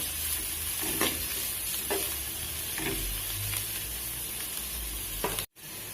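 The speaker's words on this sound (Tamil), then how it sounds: "கேரட் எல்லாத்தையும் போட்டுட்டு நல்லா வதக்கி விடுங்க." Beans and carrots sauté in a pan for egg fried rice, a steady close sizzle broken by several scraping stirs of the spatula, with a brief cut-out near the end.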